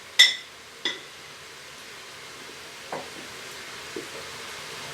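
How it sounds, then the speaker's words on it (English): A spoon stirring arrowroot thickener into chicken pot pie ingredients in an Instant Pot, with a few sharp clinks of the utensil against the pot over a faint steady sizzle, close and fairly quiet. "I'm just going to stir that around to kind of coat those ingredients"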